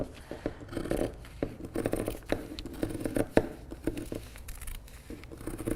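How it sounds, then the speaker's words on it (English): Rotary cutter slicing through thick fabric for a tufted Christmas tree purse, giving close, soft scraping and crunching strokes in a steady series of cuts with short pauses, fairly quiet and with no one talking. "cutting through thick fabric always sounds so satisfying too"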